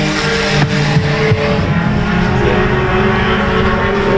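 Race cars running nose to tail around the Ark-La-Tex Speedway oval, a steady, loud engine roar that swells and shifts with a few sharp bursts early on, with no speech.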